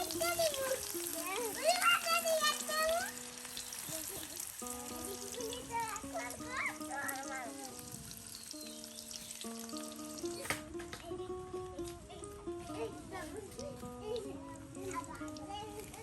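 Garlic frying in a little oil in a rural Bangladeshi village kitchen, a steady close sizzle running throughout while voices, including a child's, talk over it.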